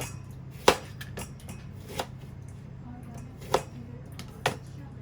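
Isan-style som tam being pounded in a mortar with lime and tamarind water at a Chiang Mai restaurant in Niigata, Japan: four sharp, irregularly spaced knocks over a low steady background hum.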